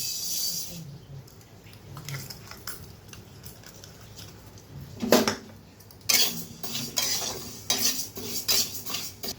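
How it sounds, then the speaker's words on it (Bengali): A spoon scrapes and clinks against a kadai while mung dal dry-roasts, giving irregular stirring strokes and sharper metallic bursts over a quiet background. "প্রথমে আমি মুগ ডালটা ভেজে নেব"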